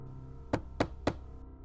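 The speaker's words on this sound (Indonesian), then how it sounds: "Ketukan tepat di depan pintu kamarku." Three evenly spaced, sharp knocks land on a bedroom door, close and clear against a quiet, faintly humming room.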